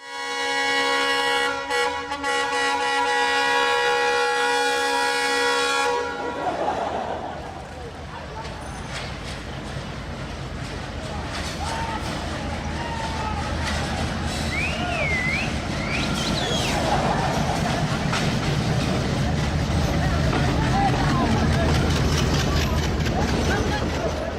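A passing train sounds a long, loud multi-tone horn for about six seconds, followed by a sustained rumble of the train moving past with squeals and a voice talking over it.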